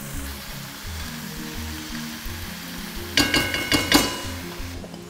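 Cabbage sizzles softly in a pan for a chicken stir fry, a low steady fry until a burst of utensil clinks and stirring scrapes near the end, with no talk.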